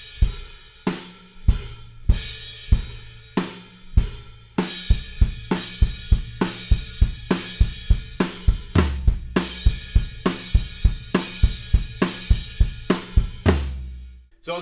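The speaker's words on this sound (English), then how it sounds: "we end up with this big fill between the snare drum and the kick" A loud, driving drum fill from a punk rock song trades snare hits against rapid sixteenth-note double kick drums, with crash cymbals punctuating groups of three in a steady, relentless pattern.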